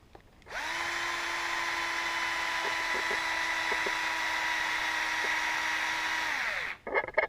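A power drill drives a screw through an RC car bumper mount, a steady high whine held close and loud for about six seconds, then stopping abruptly.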